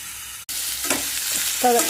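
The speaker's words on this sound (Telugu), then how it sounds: "కడాయిలో ఉల్లిపాయ పచ్చిమిరపకాయలు వేసుకోవాలి." Chopped onions and green chilies being stirred in a hot kadai, giving a steady close sizzle with scraping stir sounds over about two seconds.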